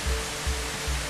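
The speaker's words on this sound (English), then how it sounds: "The water is splashing in two different directions." Water from a waterfall splashes down a natural rock water slide into a pool, a steady full rush with low surges pulsing roughly every half second, close and loud with no voices.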